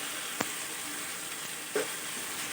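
Coriander, chili and turmeric powder masala sautés in a hot pan for egg omelette curry, giving a steady, fairly quiet sizzling hiss throughout, with a couple of brief stirring clicks.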